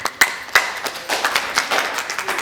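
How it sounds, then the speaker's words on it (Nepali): Applause at a Nepali dohori song event, a burst of rhythmic hand claps at close range with sharp irregular slaps, continuing for a couple of seconds. "उहाँलाई जोरदार ताली"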